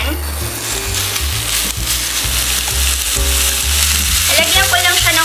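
Five hundred grams of ground beef sizzles steadily in a pan, a continuous dense frying crackle with occasional stirring scrapes, loud and close with no talking, before water is added.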